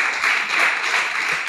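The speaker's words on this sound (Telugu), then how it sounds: "చప్పట్లు కొట్టుండ్రి." A congregation claps along at an all-night prayer meeting, a steady dense patter of many hands filling the space for a short burst, with no clear voices over it.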